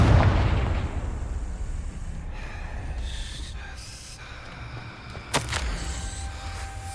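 Fire-spell explosions from the Hogwarts Legacy video game boom at the start, a low heavy blast fading into rumbling decay, followed by a sharp crack later and faint magical shimmering tones.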